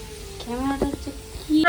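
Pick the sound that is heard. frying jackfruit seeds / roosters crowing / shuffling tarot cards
frying jackfruit seeds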